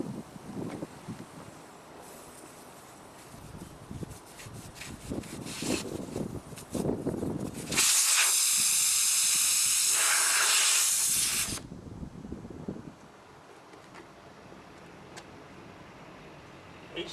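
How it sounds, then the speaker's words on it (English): Air hisses out of a tyre's valve stem in a loud, steady rush lasting a few seconds, bracketed by quieter handling noises before and after. "Quickly place the Schrader clip over the valve stem to slow the escaping air."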